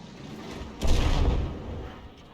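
A tank cannon shot booms in a tank battle video game, a single close blast with a heavy low rumble that decays over about a second.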